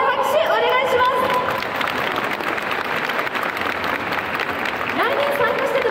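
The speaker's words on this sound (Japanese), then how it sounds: "もう一度大きな拍手お願いします。" A crowd applauds steadily at a Japanese dance festival award ceremony in Osaka, a dense continuous wash of clapping with voices and a few cheers mixed in throughout.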